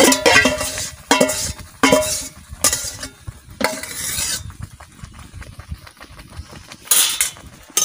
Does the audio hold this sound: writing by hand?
no